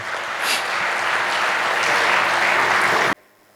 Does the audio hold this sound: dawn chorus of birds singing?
no